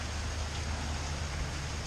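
Rain falls steadily outdoors, a soft, even hiss of drops at low volume with no pauses or other sounds.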